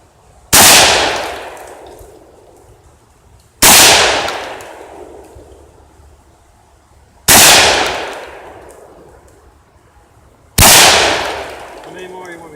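Four loud, sharp Tokarev SVT-40 rifle shots at an outdoor shooting range, evenly spaced about three seconds apart, each followed by a long fading echo.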